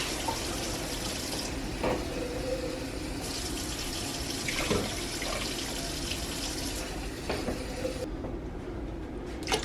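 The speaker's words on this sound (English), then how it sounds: "I'm going to start adding in some water." Water runs steadily into a cooking pot on a home stove, a continuous rushing pour with a few small clanks and knocks, moderately close and alone without talk.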